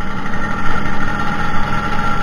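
Old Vespa Sprint 76 scooter engine running while riding, a steady, buzzing mid-pitched drone close to the rider with wind rush over it.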